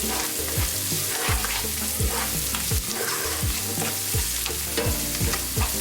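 Onions with cardamom and spices sizzle loudly in a pot as they fry for a chicken curry, with a spoon scraping and stirring in a steady repeated rhythm, close up and with no talk.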